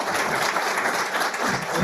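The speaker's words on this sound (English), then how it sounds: "Applause for Landon." A brief, dense burst of audience applause after a talk at an AI community conference, many hands clapping steadily and fairly close.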